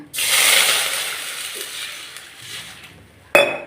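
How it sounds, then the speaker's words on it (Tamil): Water pours steadily into a pan of cashews with a broad hissing splash that gradually tapers off, followed by a sharp clank near the end. "தண்ணி ஊற்றிக்கிறேன்."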